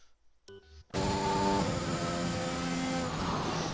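Race car engines in a sim racing game start up after a short quiet stretch with a brief tone, then hold a loud, buzzing, steady drone of several cars running together.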